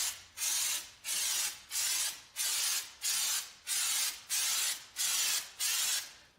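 An aerosol texture spray can sprays a drywall patch in eight short, even hissing bursts, close and steady in rhythm with brief pauses between.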